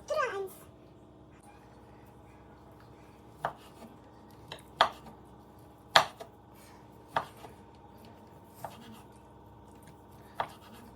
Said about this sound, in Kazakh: Бұл жерде біз колбасаны тураймыз.